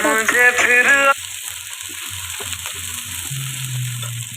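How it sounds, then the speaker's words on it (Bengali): Oil and a little sugar heat in a wok at the start of a chicken curry. The sizzle and crackle sit close, with a brief tonal musical sound at first and a low hum underneath. "দেখো কড়াইয়ে প্রথমে তেল দিয়ে দিয়েছি আর অল্প একটু চিনি দিয়ে দিলাম"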